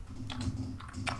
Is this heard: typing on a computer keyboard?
yes